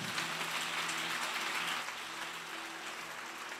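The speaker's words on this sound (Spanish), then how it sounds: "Dele un aplauso a Cecia por eso." A church congregation applauds a member named Cecia during a sermon, a steady wash of clapping that fades slightly toward the end.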